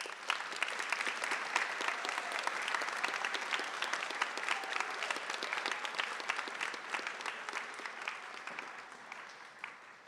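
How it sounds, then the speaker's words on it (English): Audience applause at a high school biliteracy recognition ceremony honoring Russian essay medalists, dense continuous clapping from a large crowd that swells early and slowly tapers toward the end. "Round of applause, please."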